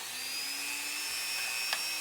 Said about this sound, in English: I'm drilling holes in shells